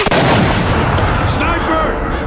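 Sniper gunfire in the Gears of War video game, a sharp loud report followed by a dense, sustained roar of game combat noise.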